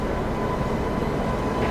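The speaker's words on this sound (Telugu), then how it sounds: "సో ఈ ట్రైన్ వచ్చేసి మనకు బెజవాడ లోకమోటివ్ వచ్చింది WP7." Seven Hills SF Express hauled by a Bezawada WP7 locomotive rumbles steadily and close, a dense continuous roar of wheels and carriages with no pauses.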